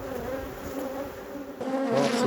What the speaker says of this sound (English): all those bees that are currently going ferocious on the camera